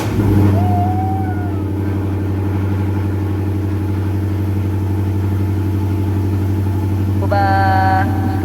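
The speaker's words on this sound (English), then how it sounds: "First cold start of the day for you guys." A Chrysler 300 with a 5.7 Hemi V8 idles on a cold start with a deep, steady rumble close by. A short tonal chirp and a brief whine come in near the end.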